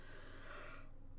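One person gives a single breathy yawn, close and soft, with a drawn-out exhale that fades away near the end.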